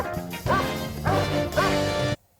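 Three loud, evenly spaced barks come from a dog in the film Rocky (1976), close and punchy, then cut off into near silence.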